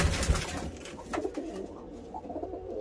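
A young Black City Tippler pigeon hen, black with a lot of white, coos softly in a few low, throaty bursts close by, with no talk over it.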